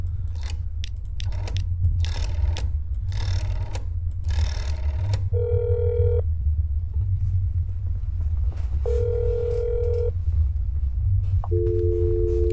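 Telephone ringing unanswered in a video game, several distinct tonal rings spaced apart over a low constant rumble, with clicking mechanical sounds before the rings.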